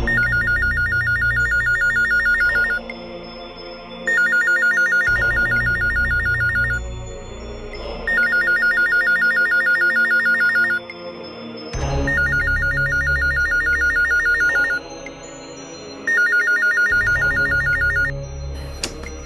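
A telephone rings in repeated bursts, a bright electronic trill sounding about every four seconds across several cycles, loud and clear against low background noise and no voices.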